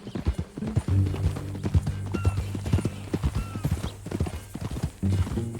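Horse hooves clip-clop in a steady galloping rhythm during riding in the video game Red Dead Redemption II, loud and close, with faint rattling tack and a brief whinny-like sound mixed in.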